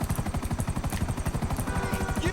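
A helicopter flies low in the GTA 5 video game with a steady, rapid rotor thump. The chopping is loud and regular throughout, with engine whine on top.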